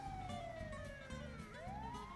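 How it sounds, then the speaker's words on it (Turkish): Wailing ambulance siren in GTA 5, sweeping up and down in pitch as the vehicle arrives, loud and steady over a low engine rumble and game background noise. "Ha geldi ambulans."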